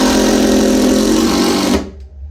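A DeWalt DCF787 impact driver hammers with a loud, fast buzzing rattle close by, holding steady before cutting off abruptly and leaving a brief fading ring.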